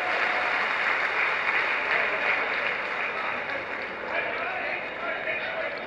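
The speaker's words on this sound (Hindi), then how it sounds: "जोरदार तालियों से स्वागत करें।" Sustained, dense applause from a large audience at a Rajasthani community gathering in Hyderabad as a guest is welcomed onto the stage, loud and steady throughout.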